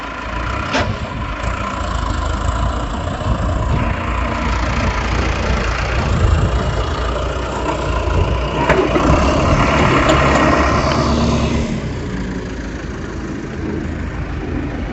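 Tractor pulling a disc plough through a field, a steady, loud diesel drone with low rumble and faint clanking, swelling slightly midway and running continuously with no talking.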